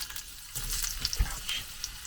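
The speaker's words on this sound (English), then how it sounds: "Oh, it is splashing a little bit." Food hisses and spatters in a hot pan where honey has been added, a bubbling sizzle with splashy bursts in a quiet outdoor cooking setting, and no one speaks.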